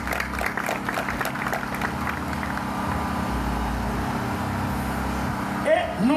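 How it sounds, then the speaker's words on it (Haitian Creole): Audience applause at a Haitian Creole text contest final, a broad wash of clapping beneath a voice and background music, fading to a steadier murmur before a brief louder burst near the end. "Attendez, nous faut applaudir monsieur."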